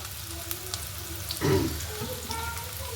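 Onions and green chilies frying in a pan for noodles, a soft steady sizzle with a brief louder stir or clatter in the middle, under faint background noise.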